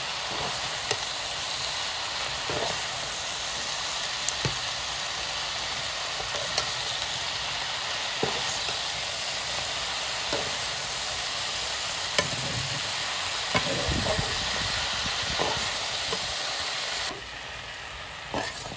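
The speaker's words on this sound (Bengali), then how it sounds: "বাঁধাকপিটা মাংসের সঙ্গে ভালোভাবে ভেজে নেব।" Cabbage fried together with country chicken meat in a pan, a continuous close sizzle with regular spatula scrapes and knocks every second or two, quieting near the end; no one speaks.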